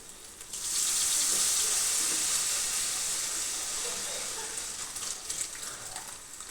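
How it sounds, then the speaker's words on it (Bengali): Water is poured into a pan of fried, oil-released masala for a spicy pabda fish curry. A loud hiss swells in about a second, holds steady, then eases into scattered crackling bubbles, with no talking. "এর মধ্যে এবার পরিমাণ মতন জল দিয়ে দেবো, যতটা লাগবে ততটা দেবো"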